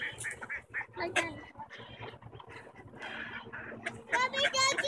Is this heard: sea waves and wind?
no